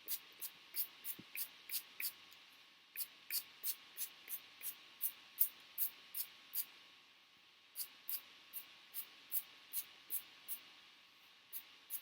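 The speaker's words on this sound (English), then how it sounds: "Spray as much as you can" A spray bottle misted onto hair in quick bursts, soft hissing spritzes in steady runs of several pumps with a short pause between runs, close and alone.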